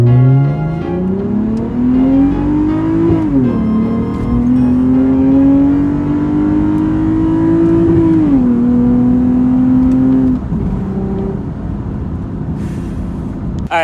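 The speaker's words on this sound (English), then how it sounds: "I'm gonna keep driving this thing around because it's so fun." A car fitted with a throttle controller revs and accelerates steadily, its pitch climbing and settling through a couple of gear changes, loud and close with no talking.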